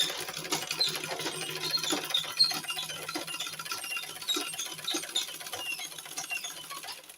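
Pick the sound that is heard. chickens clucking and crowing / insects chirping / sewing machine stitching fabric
sewing machine stitching fabric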